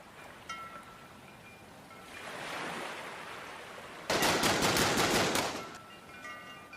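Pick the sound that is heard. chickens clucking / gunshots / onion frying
gunshots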